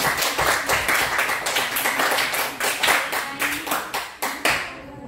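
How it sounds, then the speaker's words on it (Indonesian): A small group claps hands together at an Islamic religious lesson, a dense run of sharp overlapping claps that swells and thins, with a few louder individual claps standing out toward the end. "tepuk tangan untuk kami"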